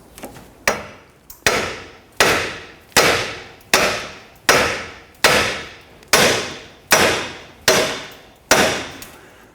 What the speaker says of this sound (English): We're going to use a hammer and strike right here on the knuckle